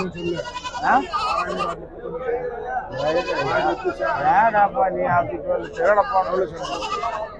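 Goats bleating at the Veppur goat market, repeated loud nearby bleats over steady crowd chatter as people talk throughout.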